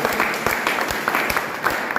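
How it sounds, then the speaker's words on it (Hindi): An audience at a business motivational seminar clapping hard, a dense continuous burst of applause with sharper individual claps standing out, close and fairly loud throughout. "ताली जोरदार वाली करनी है।"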